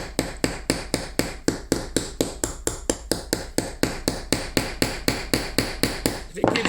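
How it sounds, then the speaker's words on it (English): A hammer taps on seized aluminium stuck to rusty secateurs. About two dozen sharp, evenly spaced metallic knocks sound close and fairly loud in a steady rhythm. "I think first of all I'm just going to tap it on this edge."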